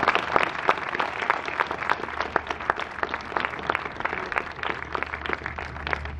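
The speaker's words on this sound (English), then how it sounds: "So can we just give them a round of applause," A commencement ceremony audience claps in a sustained round of applause, many hands beating unevenly at close range with no voices over it.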